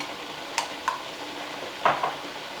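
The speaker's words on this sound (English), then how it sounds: "So we'll stir that around a little bit before I add my other stuff." A spoon stirs keto chili in a pot over a soft sizzle, with a few light scraping clinks against the pot, close and without speech.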